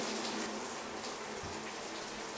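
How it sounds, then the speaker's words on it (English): A heavy shower stream pours steadily into a bathtub after a leak repair, an even, dense rush of water running close by without pause. "So now we can turn on our shower, and you can see the flow is coming out heavy."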